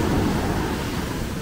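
Heavy ocean surf driven by Hurricane Ian roars close by in a dense, continuous low rumble mixed with wind buffeting the microphone, with no voices heard.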